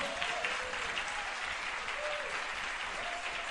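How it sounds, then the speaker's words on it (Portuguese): Church congregation applauding a visiting preacher, a continuous, even roar of clapping hands from many people, with faint voices and cheers rising briefly through the wash. "Pode aplaudir, gente."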